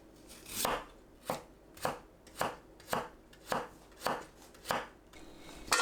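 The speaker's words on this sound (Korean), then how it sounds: "감자를 채 썰어주세요." Knife cutting potatoes into thin julienne strips on a cutting board in a home kitchen, a series of nine evenly spaced, crisp chops close to the microphone with short quiet gaps between them.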